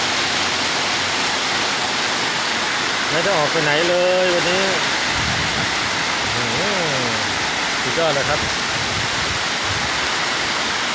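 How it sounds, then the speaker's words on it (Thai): Loud, continuous downpour of heavy rain, with someone speaking briefly over it a few times. "วันนี้ฝนตกแรงมากครับ"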